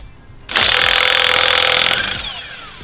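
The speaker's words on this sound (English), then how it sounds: "Take off the lug nuts so you can get the wheels off" Power tool, likely an impact wrench, removing lug nuts from a wheel of a new 2022 Dodge Charger, a loud close burst of harsh rattling that starts suddenly, holds about a second and a half, then winds down.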